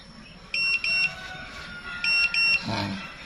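An electric pruning shear gives two pairs of short, clear electronic beeps, close and fairly loud over a low background hiss, followed by a brief soft thump.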